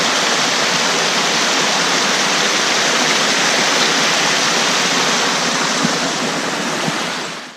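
York Creek in the Kalmiopsis Wilderness rushes steadily, a loud, continuous broadband roar close by that fades slightly at the end.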